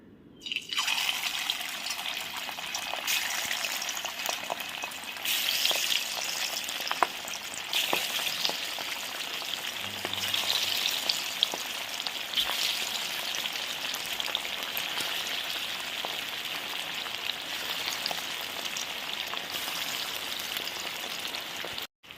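Chicken pieces fry in hot oil with a dense, continuous sizzle and crackle and occasional pops. The sound is close and steady throughout, with no talk.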